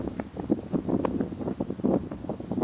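Strong gusty wind buffets outdoors, a rough steady rumble with uneven surges, close and fairly loud with no voices.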